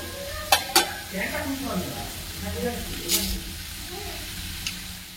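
Whole spices dropped into plenty of hot oil for matar paneer, sizzling and crackling with stirring, a few sharp clinks of utensils, and someone talking over it.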